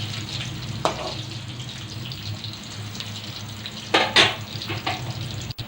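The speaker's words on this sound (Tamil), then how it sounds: "வெங்காயம் நல்லா பாதி வதங்குற அளவுக்கு" Steady sizzling of onions frying in oil, a soft continuous hiss with a few louder scrapes and stirring clatters.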